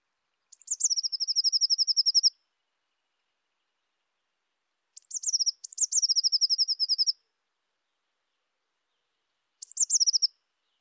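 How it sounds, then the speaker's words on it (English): Blue tit song at dawn: three bursts of high, thin notes, each opening with a couple of sharp high notes and running into a rapid, even trill, separated by silent pauses. "That's the song of the blue tit."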